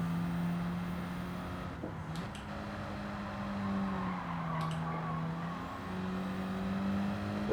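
A race car engine in Gran Turismo 7 drones steadily, its pitch dipping and rising as the throttle lifts and reapplies, with faint tyre noise, continuous and close throughout.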